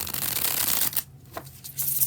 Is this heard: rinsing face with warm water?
no